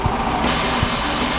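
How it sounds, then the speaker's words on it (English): Pressurised air hisses steadily out of a bus's suspension bellows as the bus lowers, a close, continuous broadband rush with a couple of faint low thumps. "That's the sound of the air coming out of the bellows."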